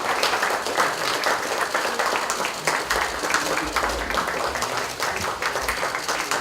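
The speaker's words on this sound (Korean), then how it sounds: "힘찬 박수 부탁드립니다" An audience at a Democratic Party founding anniversary ceremony gives sustained, vigorous applause, loud dense clapping that carries on for several seconds without a break.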